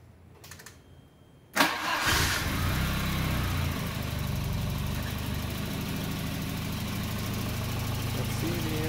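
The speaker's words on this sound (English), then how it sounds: "And start the engine again." A car engine fitted with a single-channel CDI ignition cranks briefly after a few faint clicks, catches with a loud burst, then settles into a steady, close idle.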